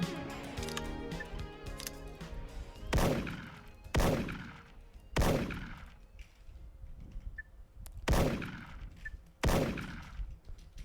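Gunfire from the video game Special Force. A burst of rapid shots comes first, followed by several separate heavy blasts at intervals of about a second, each ringing out and fading.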